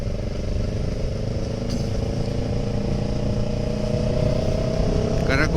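A Kawasaki ER6n motorcycle engine runs and revs steadily nearby, a loud continuous drone with a low throb and no clear speech.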